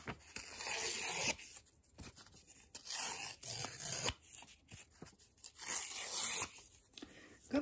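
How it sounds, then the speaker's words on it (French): Paper is torn along its edges by hand in a quiet indoor setting: several short, crisp ripping bursts separated by brief pauses, close and soft. "vous allez prendre le papier et vous allez déchirer les bords."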